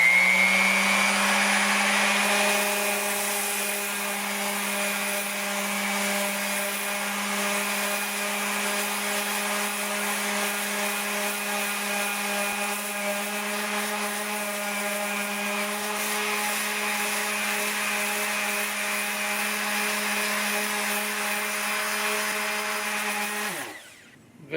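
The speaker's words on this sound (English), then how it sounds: "First up is the 80 grit DA sander." An 80 grit dual-action sander grinds paint off a Yamaha RZ350 gas tank, a steady loud whine with a fixed hum running unbroken for over twenty seconds before cutting off at the end.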